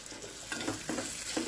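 Brinjal sizzles in oil in a pan while a spoon stirs it, giving a soft, steady frying hiss with a few brief scraping strokes, close by and quiet, with no one talking.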